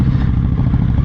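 A Yamaha R9 motorcycle being ridden during break-in accelerates briefly, a loud close engine roar with rough clattering texture.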